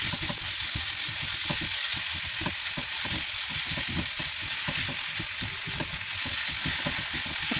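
Chicken breast wrapped in egg and cheese fries in a pan with a steady, close crackling sizzle throughout, broken by frequent short scraping stir strokes.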